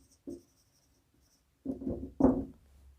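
Chalk or marker writing on a board in a chemistry lesson: a short stroke, a pause, then a few quick strokes, faint and close in an otherwise quiet room.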